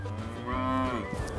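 A cow on a farm gives a single drawn-out moo lasting about a second, close and clear, with a low rumble of outdoor background before and after.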